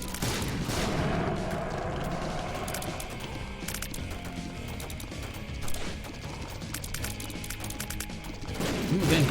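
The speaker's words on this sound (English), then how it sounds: "Now, will the Explosivo shots do lots of damage?" Explosivo shot explosions in The Binding of Isaac: Repentance, a rapid stream of sharp, crackling game blasts and impacts layered over busy background game music, continuing throughout at moderate loudness.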